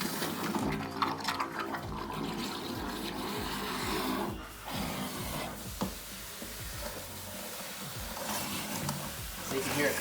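Hose water gushes and splashes out the far end of a buried drain pipe dug under concrete, a steady rushing, gurgling flow with scattered knocks and thumps.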